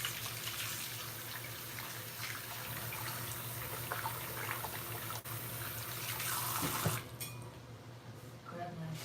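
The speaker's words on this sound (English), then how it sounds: "I'm gonna wash my hands because of all the hair gel and hair products." A bathroom sink tap runs steadily while hands are washed clear of hair gel and styling products, a continuous close rush of water that breaks off near the end, with some quieter handling afterward.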